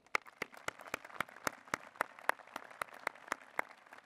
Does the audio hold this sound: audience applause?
yes